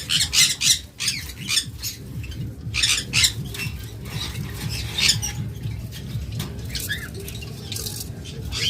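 Caged lovebirds squawk in rapid, harsh bursts, close and loud, with short pauses and a steady chatter of chirps underneath.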